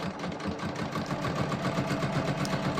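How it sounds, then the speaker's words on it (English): A sewing machine stitching a jeans waistband runs in a steady, fast mechanical whir at moderate loudness, with no talking. "let me sew this"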